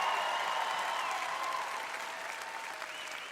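A live comedy audience in San Francisco breaks into continuous applause with a few cheers, a dense wash of clapping that slowly fades, with no one speaking over it.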